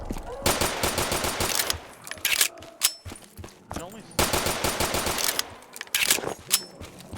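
Gunshots from a weapon in a zombies shooter video game ring out in two loud volleys of rapid, closely spaced shots, each burst followed by a short pause and scattered single reports, with no talking over them.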